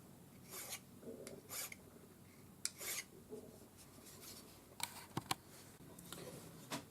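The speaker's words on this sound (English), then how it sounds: "when you're filing, just file until you touch the base of the bezel and then stop" A metal file rasps against a ring bezel in short, separate strokes with small pauses between them, fairly quiet and close, with no talking.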